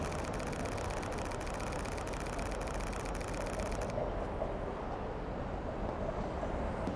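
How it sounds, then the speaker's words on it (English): A Fujifilm X-T3 camera fires an 11-frames-per-second burst: a fast, even train of faint shutter clicks for about four seconds, then stopping, over a steady outdoor traffic rumble. "If you've ever wondered what the sound of 11 frames per second sounds like on an X-T3"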